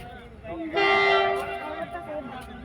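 A train blows a loud, sustained horn for under a second near a railway station, followed by a rumbling rail noise that lingers in the background.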